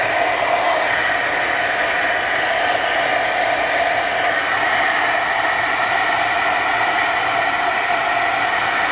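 A hair dryer blows steadily and close up, drying pooled alcohol ink on tracing paper with an even, unbroken rushing hiss from start to finish.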